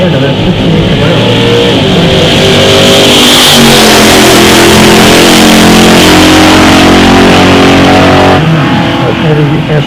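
A 1968 Camaro drag car revs loudly at a drag strip, its engine climbing in pitch and roaring steadily for several seconds before cutting off near the end. An announcer speaks over it.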